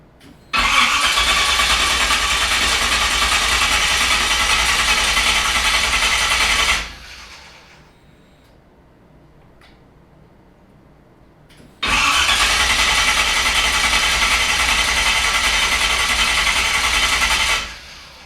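Chevrolet Nova V8 engine with a newly installed coil-near-plug ignition cranking and running loudly for several seconds, cutting off to quiet, then firing up again at steady high volume before shutting down; no talking.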